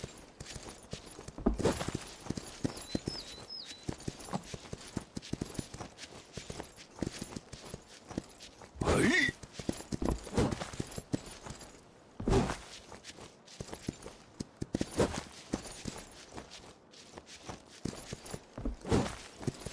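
A horse walks in the video game Myth of Empires, hooves clip-clopping in an uneven series of soft thuds at close range, with a few sharper knocks scattered through the stretch.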